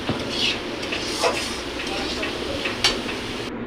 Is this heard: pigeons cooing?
no